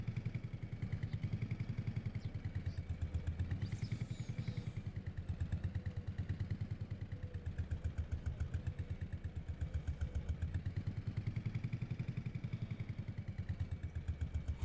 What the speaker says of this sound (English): Our Porsche tractor.